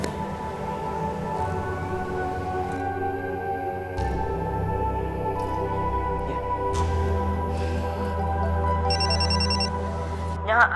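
A mobile phone rings with a steady repeating electronic ringtone, loud and close, continuing throughout under a low background hum.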